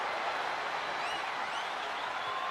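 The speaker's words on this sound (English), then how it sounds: "do you hear this capacity crowd?" A large arena crowd roars in a steady, dense wash of cheering during a no-holds-barred wrestling match in a video game, with a few higher whistles rising through it.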